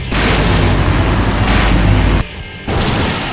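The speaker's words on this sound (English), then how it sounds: "Now that's an explosion, ladies and gentlemen." A big explosion in the video game Full Throttle Remastered lands as a loud, dense roaring boom that sustains, cuts out briefly, then resumes.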